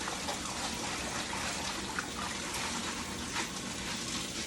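Collard greens being washed in a sink of water: a continuous soft swirl and slosh with light trickles and splashes, close and fairly quiet, with no speech.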